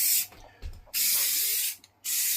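Two long bursts of Rust-Oleum Tub & Tile aerosol spray paint hissing from a can nearby onto a sink, separated by a short pause with faint clicks and handling noise.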